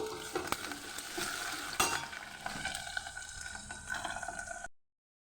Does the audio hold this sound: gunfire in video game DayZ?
no